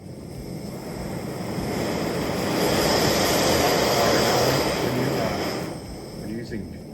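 A gas camping stove burner with no piezo igniter, lit with a lighter and running on propane, gives a steady roaring hiss that swells in the middle and eases slightly near the end.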